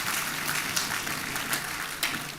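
Audience at a graduation ceremony for an executive intelligence management course gives the chairman a round of applause, a continuous even roar of many clapping hands, steady and fairly loud, with no talking over it.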